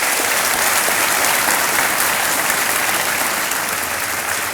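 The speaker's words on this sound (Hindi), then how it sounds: "और तालियों के साथ इनका अभिनंदन करते हैं" A studio audience on the KBC Hindi quiz show breaks into sustained applause, a dense, steady wash of many hands clapping, loud and close throughout, with no voices rising above it.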